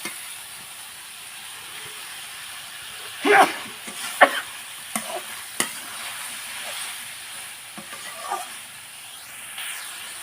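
Fish dropped into a pot for a village-style fish curry with Malabar spinach and vegetables, giving a few quiet sizzling bursts and stirring scrapes over a faint, steady hiss.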